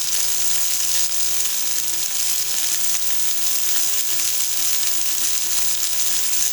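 Onion strips for lo mein fry in a hot pan, giving a steady, loud, close sizzle that holds evenly throughout without a break.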